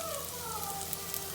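Onions fry in a pan with a faint, steady crackling sizzle that stays even throughout the brief moment.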